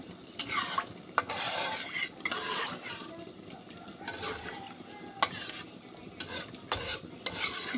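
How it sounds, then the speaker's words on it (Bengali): Beef is being fried with spices while a utensil stirs and scrapes it against the pot in repeated strokes. A low sizzle runs under the uneven clatter. "এদিকে মাংস কষাইতেছি"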